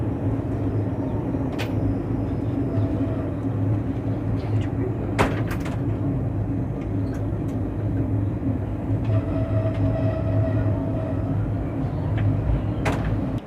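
An old ICF vintage coach on the Asansol–Sealdah Intercity superfast express rumbles along steadily, with continuous wheel and carriage noise, occasional sharp clanks and rattles, and faint background voices.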